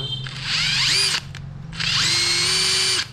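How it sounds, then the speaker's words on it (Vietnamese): A Makita 141D 18V cordless impact driver runs in two bursts, each about a second long, with whining gear noise that rises as the motor spins up, then a short pause between them; loud and close, no talking. "Test chức năng để cho các bạn nghe tiếng nhông rồi chạy."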